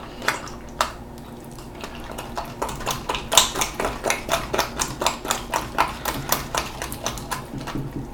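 Polymer solution for gak is stirred in a container, making a steady rhythmic run of clear tapping clicks at about two per second, close and fairly loud.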